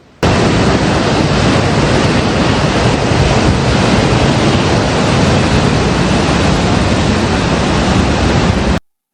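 Heavy floodwater surges through Duyun, Guizhou, China, during severe flooding: a loud, continuous broadband roar of rushing water, steady and close, with no voices, cutting off abruptly at the end.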